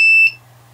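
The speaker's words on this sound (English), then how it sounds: "It's beeping, so I can go find it." Sharp electronic beeps from an FPV drone lying on the floor after a failsafe cut its motors, one loud high tone cut off and a second starting after a short gap, close by.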